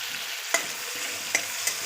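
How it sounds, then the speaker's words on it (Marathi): Onion and tomato frying in hot oil, a steady soft sizzle with a few sharp spatters and stir clicks at close range, no voices. "तर आता इथे तेल गरम झालं आहे, त्याच्यामध्ये आपण टाकणार आहोत कांदा आणि टमाटा. तर याला आपण आता परतून घेणार आहोत."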